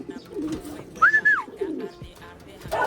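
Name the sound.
racing pigeons cooing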